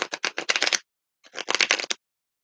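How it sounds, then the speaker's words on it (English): Tarot cards are riffle-shuffled in two quick bursts of crisp, close fluttering flicks separated by a brief silence. "I love the shuffle, to sit and shuffle."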